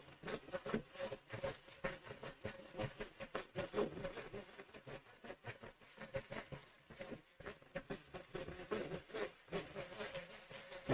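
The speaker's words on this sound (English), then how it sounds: "we're gonna beat these until stiff peaks form" Egg whites being beaten toward stiff peaks for a diabetes-friendly chocolate cake, giving a continuous fluttering, whirring patter with irregular ticks, fairly faint and steady with no talking.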